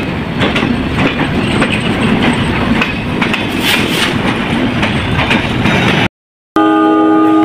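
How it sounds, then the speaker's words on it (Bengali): Benapole Express passenger train leaving a station, a loud steady rumble of rolling railcars with rhythmic clickety-clack over the rails close by; the sound cuts briefly before ending on a tonal squeal or horn-like note. "বেনাপোল এক্সপ্রেস ট্রেনটি কিন্তু ইতিমধ্যে ছেড়ে দিয়েছে"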